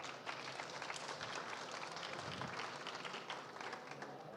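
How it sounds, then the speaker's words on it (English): An audience at a conference stage gives a round of applause, a soft, fairly faint wash of steady clapping from many hands lasting several seconds. "Give her a round of applause."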